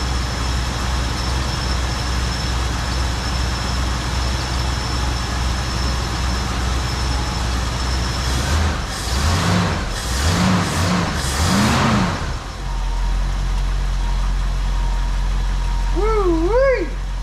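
A 1974 Ford Bronco engine runs at high idle, a steady loud drone close by, broken midway by a few bursts of rougher revving before settling back to an even hum.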